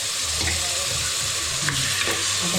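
Raw mutton tipped into hot oil in a pan over a low gas flame, giving a loud, steady, close sizzle and fry with stirring noise throughout.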